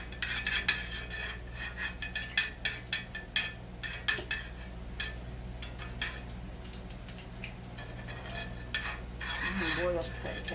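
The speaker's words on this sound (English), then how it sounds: "get just a little bit of Crisco on the back of the spoon, and then I'll just run this around and let it melt down into the skillet" Crisco melts and sizzles in a hot skillet while a spoon scrapes and clinks against the pan, a soft steady fry under irregular metallic taps at close range.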